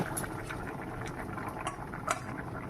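Potatoes and taro simmering in a covered pot for a hilsa fish dish, a soft close bubbling with small irregular pops over a low steady hiss.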